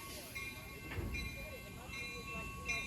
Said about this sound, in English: Say hello to the new Siemens Venture trains.